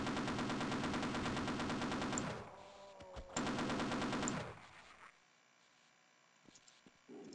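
Rapid automatic gunfire rattles in Half-Life in two dense bursts, each a couple of seconds long, followed by quieter scattered game sounds.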